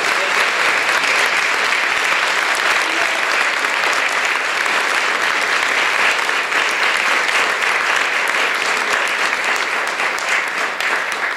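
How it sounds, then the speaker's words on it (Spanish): Sustained, dense applause fills a solemn municipal council ceremony, a large audience clapping loudly and evenly for over ten seconds without pause or speech. "Fuerte aplauso al señor Gabriel Lozano Navarro."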